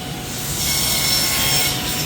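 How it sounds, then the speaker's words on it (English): Steady abrasive sanding on wooden Shaker cabinet doors with 80 and 150 grit, a continuous rough scratching hiss that holds level throughout, fairly close with no voices. "gonna keep sanding those doors right over there"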